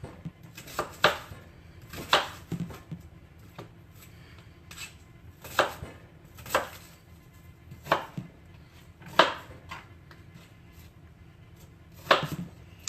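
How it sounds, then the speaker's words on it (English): A medium onion being cut into chunks with a knife on a cutting board, about a dozen sharp, evenly spaced chops sounding close and clear, with no talking. "cut up an onion too, just a medium onion, cut it into some chunks"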